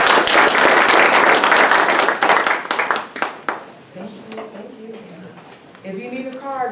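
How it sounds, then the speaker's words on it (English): An audience at a male summit on civic involvement and community engagement gives a loud, dense round of applause that fades after about three seconds, giving way to someone speaking over scattered claps. "let's give them another round of applause"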